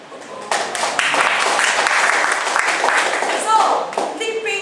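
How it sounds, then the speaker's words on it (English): Audience applause at a health talk breaks out suddenly and holds as dense, close clapping for a few seconds, with a voice rising over it near the end. "we really must give this gentleman a really big round of applause"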